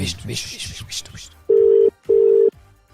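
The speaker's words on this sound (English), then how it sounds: "It's ringing" Two steady electronic ringback tones, each about half a second long, follow a stretch of talking; the tones are loud and close, separated by a short pause.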